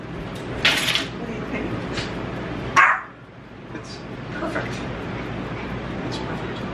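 A pet dog gives a short bark early on and another sharp bark a little later, both close by, with light household noise between them.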